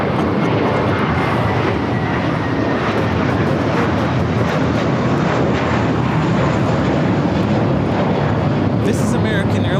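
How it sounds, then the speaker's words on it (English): American Airlines Airbus A321 jet taking off from LAX for JFK, a loud, dense, continuous engine roar at full strength from start to end, with voices speaking over it. "This is American Airlines Flight 274 taking off to JFK on the A321."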